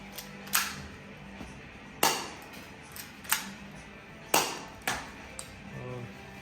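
Several sharp, snappy shots from a metal Colt C8 airsoft pistol crack out one at a time at uneven intervals, close by, with quiet pauses between them.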